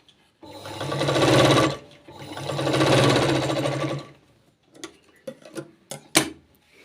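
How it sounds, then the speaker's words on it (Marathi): Sewing machine stitching a blouse sleeve, running in two loud sustained bursts of rapid mechanical whirring, followed by scattered clicks and handling knocks. "तर इथं एवढंच मी शिवून घेतलेलं आहे तर आता समोरच्या साईडने शिवून घ्यायचं आहे"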